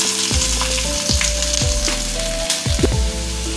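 Onion, green chilies and curry leaves hit hot oil with a loud, close sizzle and crackle. A few stirring scrapes break through the sizzle, and nobody talks.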